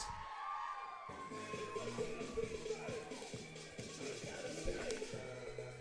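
Crowd at a college softball game applauding and cheering for an honored VIP, a sustained mix of clapping, whoops and shouts from a spread-out audience in an outdoor ballpark, with voices calling out over it.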